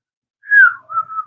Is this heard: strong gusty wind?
no